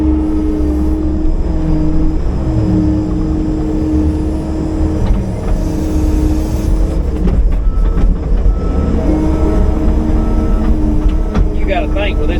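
A straight-piped, tuned and deleted John Deere 6130M tractor engine gives a heavy, loud, close rumble that holds steady with small shifts in revs, while a voice talks over it at times.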